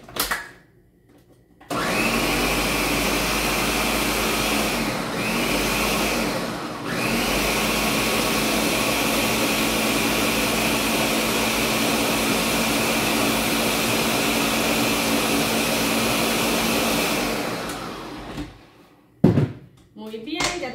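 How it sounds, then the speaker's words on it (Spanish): A kitchen blender pureeing cooked beans runs in a loud, steady whir for about fifteen seconds, starting abruptly after a quiet moment, dipping briefly mid-run, then stopping, followed by a couple of clatters. "vamos a poner a licuar los frijoles ahorita"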